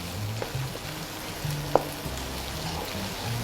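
Ingredients for Cianjur-style nasi liwet sautéing in a pan, a soft steady sizzle with light stirring scrapes and an occasional sharp pop, fairly quiet and close with no voices.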